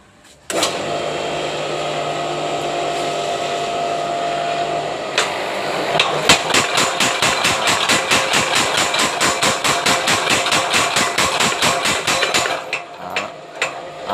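Handmade power hammer running: a loud motor hum starts up, then a rapid, steady train of heavy mechanical strikes pounds for several seconds before slowing and stopping.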